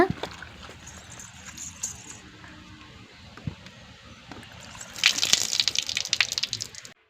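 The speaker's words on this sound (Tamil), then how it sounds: "சுண்டைக்காயை வந்து நல்லா வந்து வாஷ் பண்ணிக்கலாம் தண்ணியில்" Water sloshes and splashes as turkey berries are swished around in a bowl of water, quiet at first and then a louder burst of splashing near the end.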